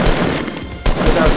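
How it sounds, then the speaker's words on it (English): Bursts of video game gunfire fired at trees, loud and rapid with a brief gap midway before the shots resume, a voice faintly present underneath. "I'm gonna just shoot all these trees now."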